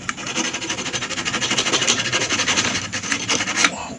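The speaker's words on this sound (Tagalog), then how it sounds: "At atin pa siyang lihain ng mabuti." Close, loud rasping strokes come from filing the contacts of an Astron PFI-1333M portable flat iron, a steady back-and-forth scraping rhythm with no talking.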